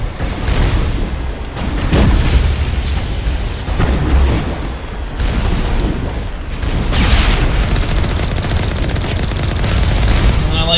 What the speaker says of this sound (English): If you fire directly in front of the Mako, the blast will actually damage you